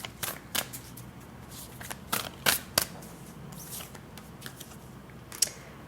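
Black Moon Astrology tarot deck shuffled by hand, giving a series of crisp, close riffling card flicks in quick irregular bursts over a quiet room.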